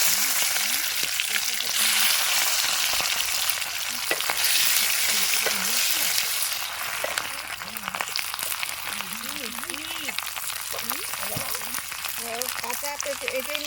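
Potatoes sizzle and fry in hot oil with cumin, dried chili, cardamom and bay leaf during outdoor picnic cooking, a loud, continuous crackle with occasional stirring scrapes and a voice talking faintly underneath.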